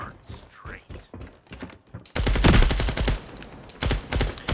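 Rapid automatic gunfire in the shooter game FragPunk, loud bursts of close shots in quick succession following a stretch of quieter clicks and thuds, with someone talking at moments.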